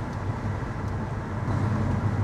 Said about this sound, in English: if you just drive it normally, it just sounds like a really nice sports exhaust